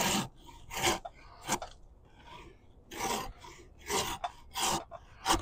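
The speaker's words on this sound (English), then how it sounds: "This cambium is going to be steamed and peel off." Steamed winter white oak cambium bark peels off a bow blank in a series of rough tearing rips and rasping strips, close by, with short pauses between pulls.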